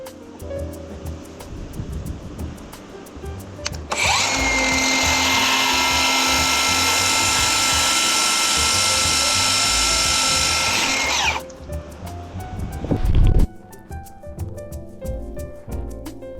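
A power tool cuts small formwork pieces at a construction site, with a loud, steady high-pitched whine lasting several seconds amid surrounding clatter.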